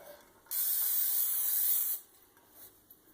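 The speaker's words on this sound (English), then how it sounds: "First spray a 9x13 cake pan with Pam so the manicotti don't stick." A single steady aerosol spray of cooking spray onto a 9x13 cake pan hisses for about a second and a half, close and loud, then cuts off into quiet.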